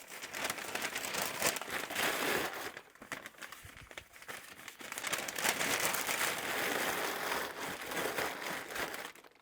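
Local newspaper sheets are crumpled by hand for packing padding, a close, continuous crinkling and rustling with brief lulls, no voices.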